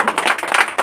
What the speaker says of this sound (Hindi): प्रायिकता समझ में आया, इसके लिए ताली लगाइए